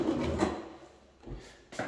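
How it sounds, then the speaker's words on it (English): Bathroom drawers beneath a sink being pulled open and pushed shut, giving a few soft wooden slides and knocks close by in a quiet room. "Here's your storage below the sink, two drawers at work."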